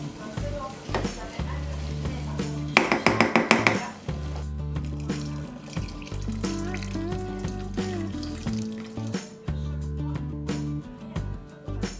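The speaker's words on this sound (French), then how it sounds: "verser l'eau chaude petit à petit" Hot water poured bit by bit into a pot of oil, spices and stock cube for a vegan dish, bringing a sharp hissing sizzle and bubbling, with stirring and utensil clatter close by.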